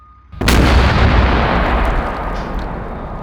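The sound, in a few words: explosive blasting a concrete element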